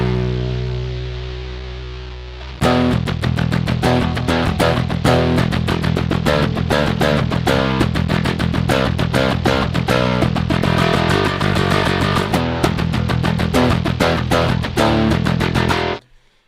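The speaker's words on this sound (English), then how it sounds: "this one has like a ton of clean signal, and the fuzz is kind of bubbling underneath" A bass guitar played with a pick runs through the free BitFuzzer fuzz plugin on its pick bass preset, mostly clean tone with a gritty fuzz underneath. A busy, steady riff follows a soft lead-in and cuts off sharply at the end.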